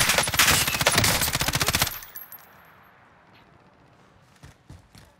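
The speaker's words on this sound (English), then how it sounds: "Someone's shooting at you, though, huh?" Automatic gunfire in the video game Call of Duty Cold War Warzone: a loud, rapid burst of shots for about two seconds, then a quiet lull and a few faint, scattered distant shots near the end.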